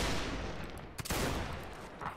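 Musket volleys crackle and boom in a dense, continuous fusillade during a Civil War battle in the game North and South, loud and near, with a sharp louder burst midway.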